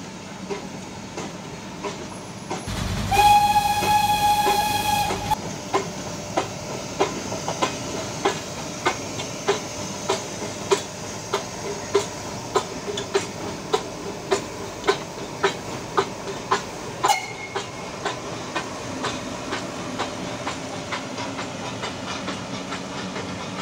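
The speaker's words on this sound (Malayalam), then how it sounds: "നഴ്സറി പാട്ടിലെ ചുക് ചുക് ശബ്ദവുമായി ആ കളിപ്പാട്ട തീവണ്ടി മെല്ലെ പ്ലാറ്റ്ഫോമിലേക്ക് പോയി" The Nilgiri Mountain Railway steam toy train with three coaches eases into a station platform: a loud burst of steam hiss and whistle early on, then a steady rhythmic chuffing and clicking of wheels, close and alone.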